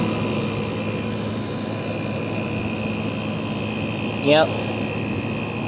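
Fan motor of a Hisense 12000 BTU window air conditioner running, a steady loud droning hum throughout, with a brief spoken word near the end.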